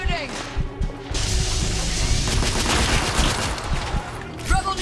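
Gunfire in The Order: 1886, a dense burst of shots and loud impacts running continuously for several seconds, with a few sharp cracks at the start and end.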